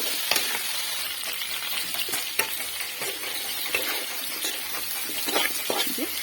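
Lentils or dal frying with salt and turmeric powder in a pan give a steady, dense sizzle and crackle close by, with occasional stirring scrapes and no voices.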